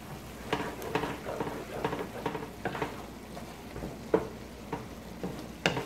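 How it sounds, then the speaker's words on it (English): Sofrito hitting a hot pan on high heat, a quiet crackling sizzle broken by scattered sharp pops and stirring clicks, faint and close with no speech. "So what I'm gonna do now, I'm gonna add my sofrito. Put this back on high now."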